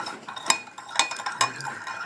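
A metal spoon stirring golgappa tamarind water in a vessel, three bright clinks against the side at a steady pace with soft swishing between, close and fairly quiet.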